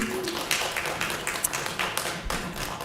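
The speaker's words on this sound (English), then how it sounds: "I'm going to ask that we don't clap or make any other noises after people have spoken" An audience at a city council meeting claps in a dense, steady patter of many hands, with a few sharper slaps standing out, at moderate distance in a large room.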